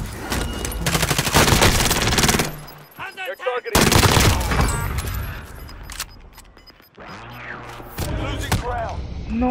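Rapid game gunfire bursts loudly in a video game, with heavy rattling volleys, a few sharp single shots between them, and excited voices talking over the action.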